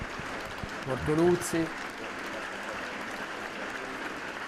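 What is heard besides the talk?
long applause from funeral attendees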